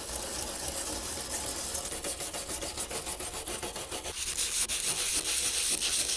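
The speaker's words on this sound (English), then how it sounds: "On one side, I've used sandpaper to knock off more loose rust, and on the other side, I've just used a wire brush." Rusty metal is worked over with sandpaper and a wire brush, giving a continuous close, dry, raspy scraping with a steady back-and-forth rhythm that turns harsher toward the end.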